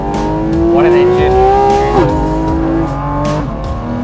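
A Porsche 718 GT4 RS sports car engine runs steadily with a rising, smooth tonal whine, loud and close, shifting pitch briefly before settling into a sustained hum.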